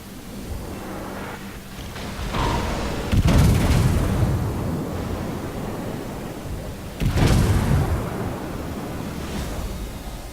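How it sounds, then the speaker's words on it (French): Naval gunfire from battleships in the World of Warships video game: two heavy, booming salvos several seconds apart, each swelling into a long rumbling roar over a constant ocean-like wash, loud and with no voices. "Gneisenau me tire, mais il va me louper."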